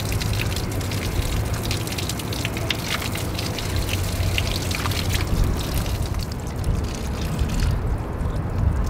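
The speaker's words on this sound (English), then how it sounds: "Water's dripping out." Water running out of an Airstream trailer's fresh water tank through an open valve, a steady splashing and trickling stream that continues without pause, close by.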